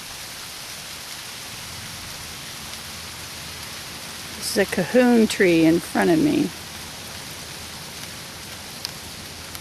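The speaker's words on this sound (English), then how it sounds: "In fact, it just started raining on me." Rain falling steadily in creek-side forest in Belize at the start of the rainy season, a constant soft hiss throughout, with someone speaking briefly over it midway.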